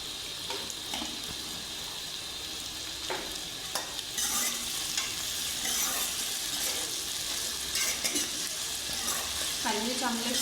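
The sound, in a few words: onions frying and being stirred in a pan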